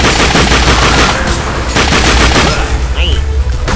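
Rapid bursts of automatic gunfire from The Darkness II video game, loud and continuous, crackling shot after shot with no pause.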